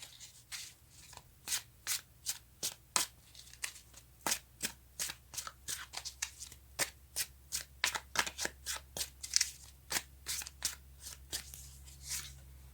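Tarot cards are shuffled in a long run of quick, crisp riffles and slaps, close and fairly quiet, with no talking.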